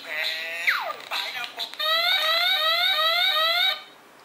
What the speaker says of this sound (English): it is going to display that kind of sound like a beep beep